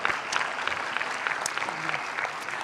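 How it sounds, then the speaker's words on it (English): Applause from a seminar audience welcoming a central bank governor, a dense, even wash of many hands clapping that holds steady for a few seconds. "Give a big applause."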